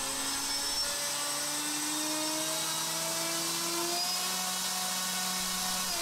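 Drone motors with propellers spin on a thrust test stand with a load cell, a steady loud whirring drone with shifting tonal whine that runs without pause.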